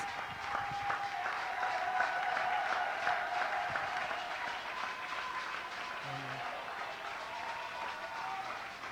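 A church congregation applauds to welcome pastor David, a dense, steady wave of clapping that stays moderately loud and continuous throughout with no break.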